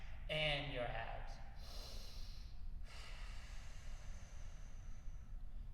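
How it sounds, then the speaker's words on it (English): A person exhales forcefully, pushing air out with the diaphragm and abs in one long, breathy push that fades into soft breathing against a low background rumble. "you exhale by pushing the air out using your diaphragm and your abs"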